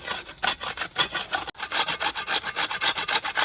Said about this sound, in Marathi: यासाठी आपण खोबरं किसून घेतो मासवडीसाठी